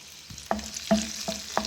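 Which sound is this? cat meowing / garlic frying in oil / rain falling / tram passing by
garlic frying in oil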